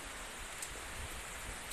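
Soft, steady rain hiss with faint patter, even and continuous, fairly quiet and without any voices.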